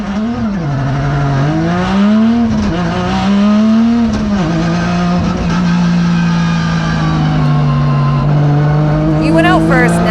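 Loud, sustained drift car engine roar at a Formula Drift event, with rising and falling revs, a strong whining pitch sweeping up and down, continuous throughout.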